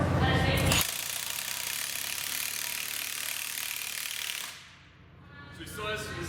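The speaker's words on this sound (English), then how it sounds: "this tool will shut off once it senses that the fastener is seated" A Milwaukee M18 FUEL high-torque impact wrench drives a fastener in one loud, sustained burst of rapid hammering that lasts about four seconds, then cuts off abruptly once the fastener seats.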